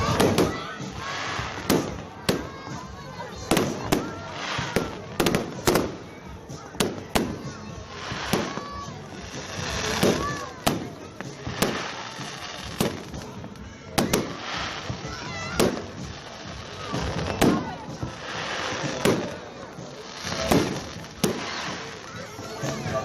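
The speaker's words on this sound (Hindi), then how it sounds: "मैं आपको फायरवर्क्स की आवाज़ सुनाती हूँ ताकि आप लोग इंजॉय करें साथ में।" Bonfire night fireworks in the UK, a rapid series of loud bangs and crackling bursts going off one after another throughout, with a faint crowd murmur underneath.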